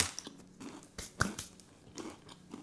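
Burnt croque-monsieur being bitten and chewed up close, with crunchy, crackling bites and wet chewing in an uneven rhythm, one sharp crunch standing out.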